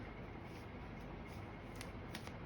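Tarot cards shuffled continuously by hand, a steady soft papery riffling with a few brighter flicks near the end, close and moderately quiet.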